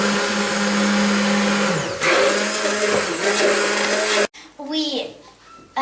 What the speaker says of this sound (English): And we mix it with a blender.